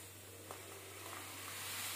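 Mustard dal poured into lukewarm oil for a village-style mango pickle gives a faint, steady hiss, with a soft crackle and light stirring texture throughout.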